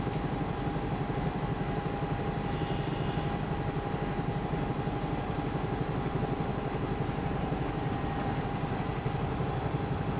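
Bell 222UT helicopter engine in the X-Plane flight simulator, a steady loud rotor and turbine drone with a constant whine, continuous and unbroken throughout.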